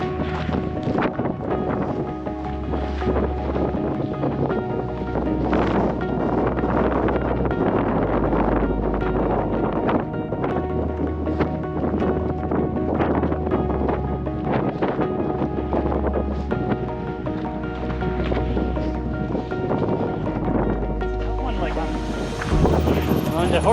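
Strong wind buffets the microphone on an open, exposed mountainside trail during a long trail run, a steady broadband roar with low gusty thumps throughout, with no voices.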